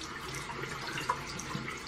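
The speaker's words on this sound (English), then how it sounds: "Rinse off my little mask brush, which is actually like a foundation brush." A water tap runs into a sink as a mask brush, a foundation-style brush, is rinsed under it, giving a steady, soft, close rushing of water with no talk.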